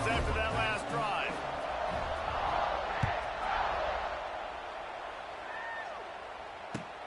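A stadium crowd roars and cheers steadily through a college football kickoff in the video game EA NCAA 26, with a commentator's voice talking over the noise.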